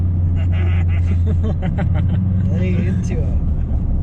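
A truck with an Allison transmission accelerates at three-quarter throttle, its deep engine drone steady and loud throughout while someone talks over it.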